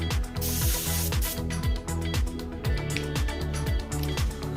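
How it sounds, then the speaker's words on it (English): An airbrush sprays paint around a flame-pattern stencil in a couples design. A soft hiss runs over repeated mechanical clicking and whirring, steady and close with no voices. "So I'm just spraying around"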